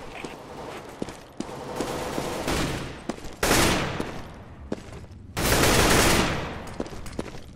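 Gunfire in CS GO: scattered single shots and short bursts rattle through the clip, with two loud, long sustained volleys standing out near and heavy.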